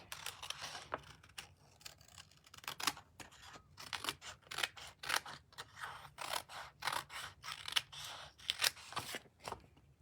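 Scissors snip through paper card in a long run of quick, crisp cuts, close and fairly quiet, with rhythmic clusters of snips and short pauses and no talk.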